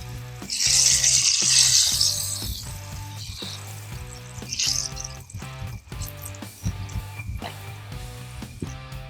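Battered shellcracker and bluegill fry in hot oil at a tailgate beside a truck, a loud, steady sizzle swelling early then settling into a continuous crackle with a low hum and faint clinks underneath.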